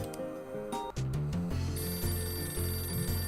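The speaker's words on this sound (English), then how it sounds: "The front desk phone is ringing." The front desk telephone rings in Hotel Dusk, a game ringtone chiming over background music for a few seconds.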